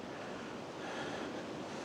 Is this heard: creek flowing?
yes